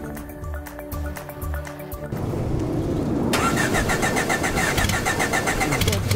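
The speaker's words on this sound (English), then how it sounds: "Start your engines and ride along with race car driver Tiffany Richardson-Harrell" A race car engine at Langley Speedway in Hampton cranks and catches, then settles into a loud, steady, rough idle close by, with a mechanical clatter before it fires.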